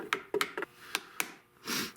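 A few light taps of a brass hammer on metal during work on an old Essex double gun, close and irregular, followed by a short soft rasp.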